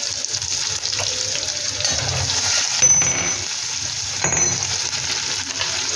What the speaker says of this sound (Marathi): कढईमध्ये मी तेल टाकलेलं आहे त्यामध्ये अद्रक आणि लसूण टाकून ते व्यवस्थित असा भाजून घेतला त्यानंतर त्यामध्ये जरासे जिरे आणि जरासे मोहरी आपण टाकून घ्यायचे आहे